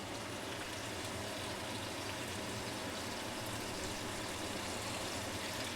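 A cup of peanut oil poured into a cooking pot to start a roux, a steady continuous liquid stream with a broad hissing wash that holds evenly throughout, close and fairly quiet, with no talking.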